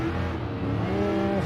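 An old car's engine revs in Gran Turismo 7, a loud, steady, harmonic drone that climbs gently in pitch, heard up close with no talk.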